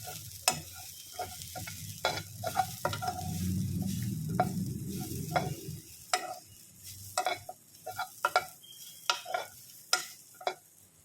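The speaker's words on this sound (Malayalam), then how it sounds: "രണ്ട് കഷ്ണം ഉള്ളി കിഴിപുളി ഒരു മുളക് ഇത്രയാണ് ഇട്ട് കൊടുത്തിരിക്കുന്നത് ഇതെല്ലാം കൂടി ഒന്ന് ബ്രൗൺ കളർ ആകുന്നിടം വരെ നമുക്കൊന്ന് നല്ലതുപോലെ വഴറ്റിയിടാം" Onion, tamarind and a chili sautéing in a pan, with a steady sizzle swelling loudly in the middle and repeated sharp scrapes and clacks of stirring throughout, close and alone without talk.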